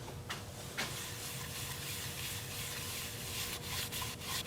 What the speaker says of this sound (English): the sanding went really well